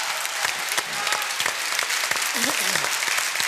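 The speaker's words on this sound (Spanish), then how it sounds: "El aplauso para María José, que se ve estupenda." A studio audience at a televised game-show night breaks into dense, steady applause that stays loud throughout. A brief voiced cheer rises above the clapping partway through.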